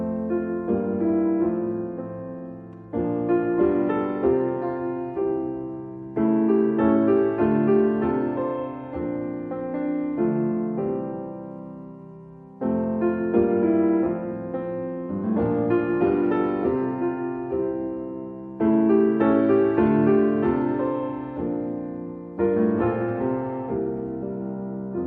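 Opening section of a song, a steady harmonic progression of sustained chords moving in phrases of a few seconds each, loud and continuous with no voices.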